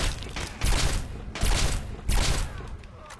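Gunfire in Fallout 3 hits in three heavy, close bursts, evenly spaced and each trailing off, with a player's voice faintly under the game audio.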